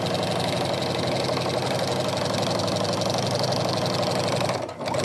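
A sewing machine fitted with a walking foot stitches straight and wavy quilting lines, its needle chattering in a fast, even, continuous mechanical drone up close that stops abruptly just before the end.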